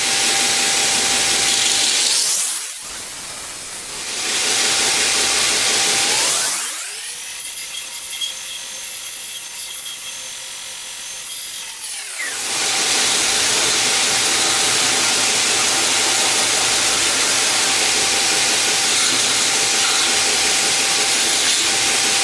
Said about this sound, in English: I'm just going to stick it on the grinder and then basically grind it off.